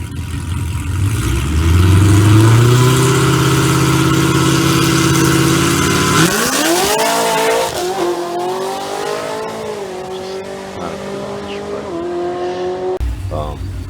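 A supercharged 2016 Camaro 2SS convertible launching at a drag strip: a loud, close engine roar builds at the line, then rises through steeply climbing revs with gear changes as the car pulls away, with a voice heard over it.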